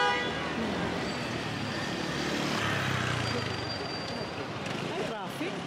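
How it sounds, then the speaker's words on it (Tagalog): Busy traffic on Oxford Street in London rumbles continuously, with short car horn toots rising above the roadway noise while people talk nearby in a crowded street. "Ay, traffic. Dito sa Oxford Street."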